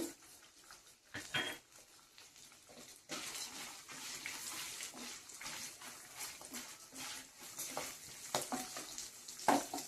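Peanuts and urad dal fry in hot oil, making a continuous soft crackling sizzle mixed with intermittent stirring scrapes and light clatter against the pan. Nobody speaks.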